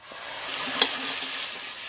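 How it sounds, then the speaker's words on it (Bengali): Frying masala of chilli, ginger and garlic as tomato paste goes in, a steady close sizzle with one brief sharp clink partway through, no talk. "এরপর এর মধ্যে দেবো টমেটো বাটা।"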